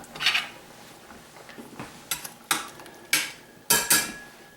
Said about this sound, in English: I'm going to add the frozen scallops, which will naturally thaw in there.